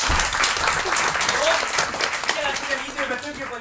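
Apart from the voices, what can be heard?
audience applause for the improv team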